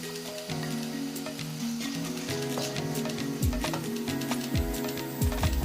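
Chili powder sizzles in hot oil for a gooseberry pickle, a steady crackling fry with scraping stirs and clicks of a utensil against the pan.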